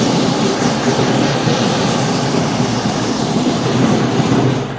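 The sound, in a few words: John Deere 2032R compact tractor engine revving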